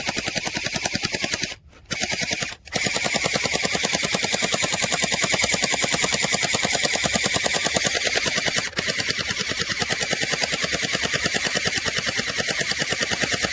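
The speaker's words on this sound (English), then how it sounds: "let's just fire some rounds" An SKD C5001 gel blaster, 2023 glow edition with an LED activator, fires on full auto in a rapid, even, buzzing stream of shots that pauses twice briefly and then runs on.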